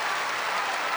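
Tennis crowd applauding at the 2021 US Open, a steady wash of dense clapping filling the whole moment without a break.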